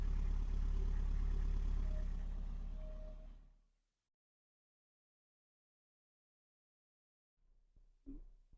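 A Mercedes 190E 2.3 16v Cosworth engine idles steadily with a low rumble for a few seconds, then cuts off into silence before a few faint clunks.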